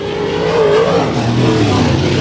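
IMCA modified race cars roar at full throttle on the Bakersfield Speedway dirt oval, loud, continuous engine noise with rising and falling revs from several cars.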